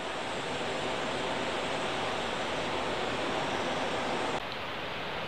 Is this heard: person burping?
no